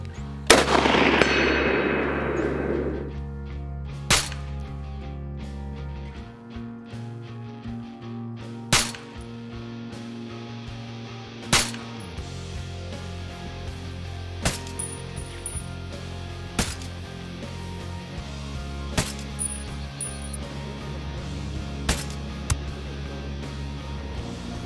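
Sharp gunshots from a rifle in Ghost Recon Wildlands ring out one at a time at spaced intervals over a steady low in-game ambience, each crack loud and distinct with a short tail.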